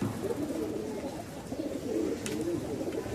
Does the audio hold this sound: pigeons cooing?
yes